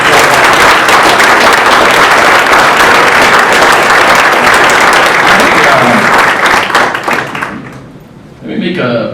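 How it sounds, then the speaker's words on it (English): A round of applause for embassy staff at an ambassador's Cherry Pie Festival event: a dense, loud burst of clapping from a large crowd that holds steady, then fades near the end as a voice comes in. "let's just give them all a round of applause."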